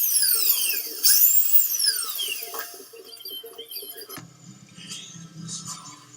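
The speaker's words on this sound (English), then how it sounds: "Transfer the positions of the pilot holes to the tower with a hand drill." A hand drill bores pilot holes into the steel tower frame of a Cricket air hammer build. It whines up to a high pitch and then winds down, followed by quieter lower grinding toward the end.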